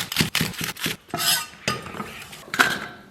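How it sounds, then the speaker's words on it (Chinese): A kitchen knife chops scallions into segments on a cutting board, giving rapid bursts of close, crisp knocks with a slight clink of blade against board. No one talks. "然后把葱给它切段"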